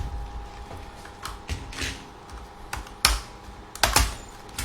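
Laptop keyboard pried open for fan cleaning: irregular plastic clicks and snaps over a steady electrical hum, with a few louder cracks near the end.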